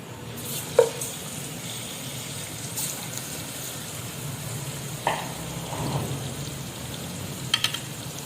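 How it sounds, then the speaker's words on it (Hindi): Mutton pieces hit hot oil in a karahi for black pepper mutton karahi, giving a steady low sizzle with a few sharp clatters and pops scattered through. "ये देखें ऑयल गर्म हो गया। अब इसमें मटन डाल देंगे।"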